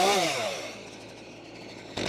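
A wood chipper feeding on a felled tree gives a loud, high mechanical whine that winds down over the first second, leaving a lower steady drone before a sharp burst returns at the end.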